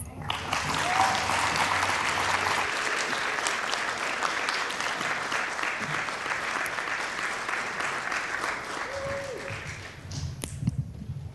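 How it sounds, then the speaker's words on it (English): Loud, sustained applause from a large conference audience, dense clapping that holds steady for several seconds before thinning out near the end. "Let's give her another round of applause"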